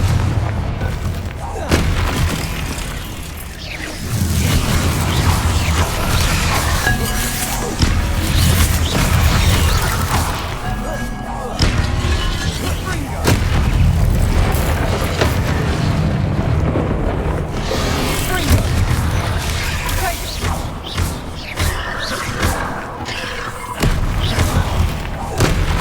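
Confringo fire spells exploding during Hogwarts Legacy combat, a run of loud, heavy booms and crashes piling up over a rumbling battle din, with voices calling out now and then.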